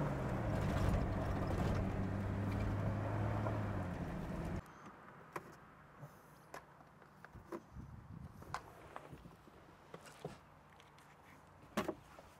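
Off-road expedition vehicle on a dirt track: a steady engine drone for a few seconds cuts off abruptly, then scattered knocks, crunches and clunks follow at close range without speech.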